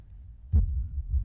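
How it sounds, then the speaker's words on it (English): Low, thudding heartbeat sound effect for an edit, with a strong thump near the middle and softer beats before and after, one of them an added extra beat, alone with no talk. "We're going to give it one extra heartbeat as if a heartbeat's missing."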